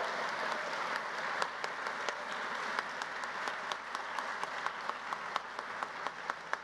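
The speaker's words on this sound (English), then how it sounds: "How about a round of applause for our faculty who provided hooding and clothing?" Graduation crowd at an engineering master's hooding ceremony claps for the faculty, a steady, somewhat distant wash of applause with individual claps poking through.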